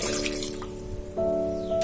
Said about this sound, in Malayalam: അരക്കപ്പ് വെള്ളം ഒഴിക്കാം.